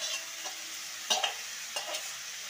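Boiled drumstick leaves are stirred with boiled potatoes in a pan. Three soft scraping strokes sound over a faint, steady sizzle, quiet and close.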